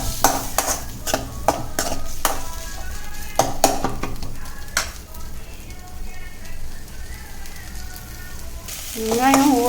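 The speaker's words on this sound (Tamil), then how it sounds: "இஞ்சி பூண்டு பேஸ்ட்டு இந்த அளவுக்கு வதங்கினதுக்கப்புறம் ஒரு 2 வெங்காயம் போட்டு" Onions sauté with ginger garlic paste in a pan for mutton fry, a continuous sizzle under a run of sharp spatula knocks and scrapes against the pan early on, with a brief voice near the end.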